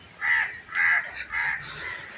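Crows caw in three loud, spaced calls close by, one after another with short pauses, near a spot where grain has been scattered for birds.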